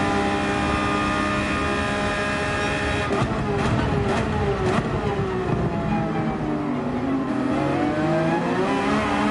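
A race car engine in Gran Turismo 7 at the Monza circuit, loud and continuous, revving and shifting with rising and falling engine pitch close up, carrying on with no break.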